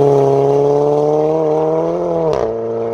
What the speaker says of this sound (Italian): È il suono di una K04 con lo stage 2.